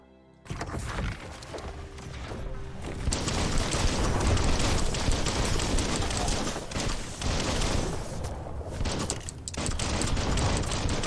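Dense gunfire in the video game Biomutant, rapid overlapping shots and booms that begin abruptly and continue loud and nearly unbroken, with brief lulls.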